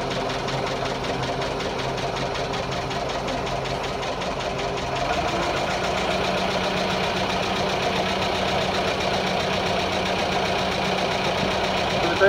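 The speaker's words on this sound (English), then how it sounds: "Maybe adjust the idle, but I want to let it warm up real good before I do that." A motocross bike engine idles steadily while warming up before a race, a continuous mid-pitched running drone with a slight rise in tone partway through, heard close and alone.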